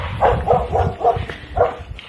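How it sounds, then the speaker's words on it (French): A dog barks outdoors in the countryside: five sharp, fairly close barks at an even rhythm, the last after a short pause, over low background rumble. "Putain de chien, sans déconner quoi."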